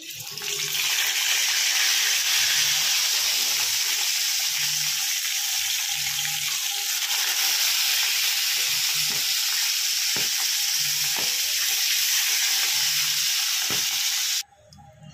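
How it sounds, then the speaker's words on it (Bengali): Pieces of hilsa fish sizzle steadily in hot oil, a loud continuous frying hiss close up with soft bubbling and occasional stirring clicks, ending abruptly near the close. "তেল আমার গরম হয়ে গেছে, এবার আমি মাছ ছেড়ে দিচ্ছি এক এক করে।"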